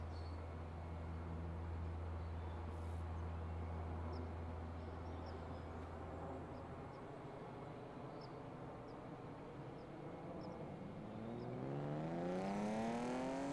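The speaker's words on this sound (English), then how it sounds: "that engine sound was in fact supposed to be a BMW M3" A BMW M3 engine in a racing video game holds a steady, buzzing drone for most of the stretch, then revs upward in rising pitch near the end, with no talking.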